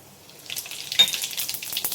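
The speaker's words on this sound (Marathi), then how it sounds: "तेल मी तापाला ठेवलं आहे कढईमध्ये चांगलं तापलं आहे गॅस जरा मंद करते आणि यात टाकते मी राय आणि जिरं" Mustard seeds and cumin hitting hot oil in a kadhai over a lowered gas flame, starting quiet then bursting into a crisp crackling sizzle with sharp popping spatters that continue steadily.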